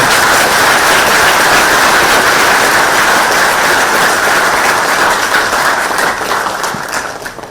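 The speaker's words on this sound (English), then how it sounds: "this needs a big round of applause" Big, sustained applause fills a university lecture hall, a loud continuous roar of many hands clapping that holds steady, then gradually tapers off near the end.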